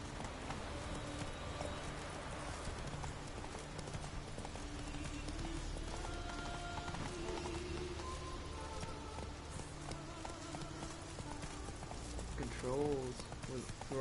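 Galloping horse hooves in The Witcher 3: Wild Hunt game, a steady quiet rapid clip-clop rhythm running throughout while someone talks over it.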